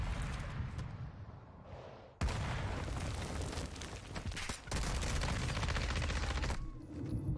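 Dense gunfire in Warzone, pistols among the weapons, as loud rapid volleys and booming shots run almost continuously, with brief dips, heavy and close throughout.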